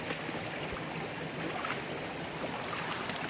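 A forest stream in the Truong Son jungle being crossed on foot: a continuous, close rush of flowing water fills the whole stretch, steady and fairly loud with no voices.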